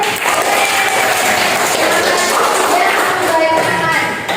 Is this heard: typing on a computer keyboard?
no